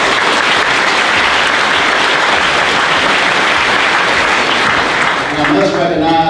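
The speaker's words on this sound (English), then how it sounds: "Let's give them a round of applause." An audience at a baseball hall of fame induction ceremony applauds steadily and loudly for honorees, a dense continuous wash of clapping that starts to fade near the end.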